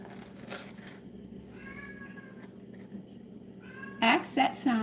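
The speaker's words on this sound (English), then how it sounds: "My cat." A house cat meows several times in a kitchen, short tonal mews with a louder, closer pair near the end, while a person talks intermittently.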